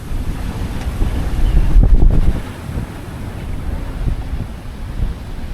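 Strong wind buffets a 33ft sailboat on the open Pacific, a loud, gusting roar with washing waves beneath, swelling in the middle and easing slightly after.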